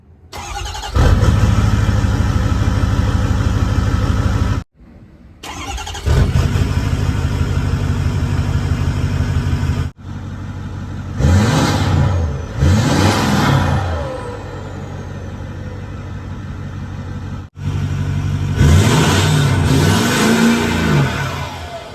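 A Ford Powerstroke diesel truck with a new downpipe and DEI-wrapped exhaust cranks and starts, settles into a loud steady idle, then gets several sharp revs, heard up close with no talking.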